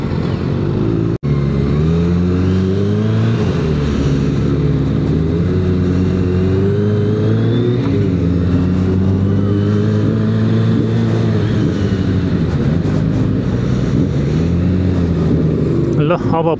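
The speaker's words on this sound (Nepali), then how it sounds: "यी हो त सिमास नि रेप हान्दाखेरि राम्रो साउन्ड आउँदो रहेछ" A Yamaha R1 sport motorcycle revs hard inside a Tokyo tunnel, its loud, sustained engine note rising and falling with echo throughout while someone talks over it.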